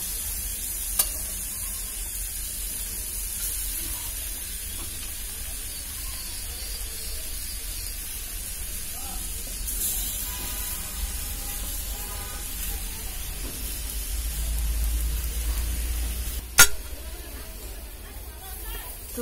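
Vegetables and egg fry in a pan, a steady soft sizzle with occasional stirring scrapes running throughout, joined by one sharp clink near the end.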